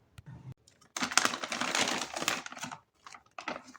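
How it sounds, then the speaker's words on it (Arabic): A plastic bag of liquid soap paste is pulled open at home, giving a close, fairly loud crinkling rustle in several bursts with short pauses between them. "هفتح الكيس لحظه واحده"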